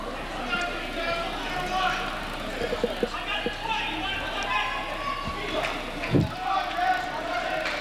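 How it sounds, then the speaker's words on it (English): Crowd at a college basketball semifinal between Westbrook College and Castleton State, a steady roar of voices and cheering with brief sharper shouts and thumps, under a commentator's speech. "Crowd getting into it."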